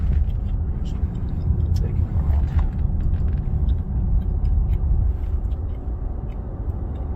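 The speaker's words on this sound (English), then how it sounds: "Got a car coming" A car passes along a road outdoors, a steady low engine and tyre rumble holding throughout at moderate loudness, with faint distant background noise and no clear peak.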